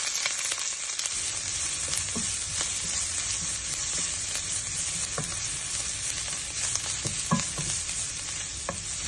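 Ginger, garlic, onion and curry leaves frying in oil make a continuous close sizzle, dense and steady, with scattered crackles and spits throughout and no voices.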